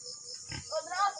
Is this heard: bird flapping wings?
no